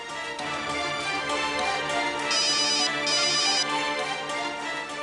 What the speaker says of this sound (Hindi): लो, फिर से आ गया तुम्हारी दादी अम्मा का फोन।